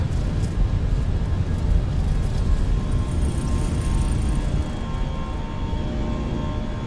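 Airbus A319 taking off and climbing in Microsoft Flight Simulator 2020, a steady loud jet engine roar with broadband rumble, slowly easing slightly toward the end.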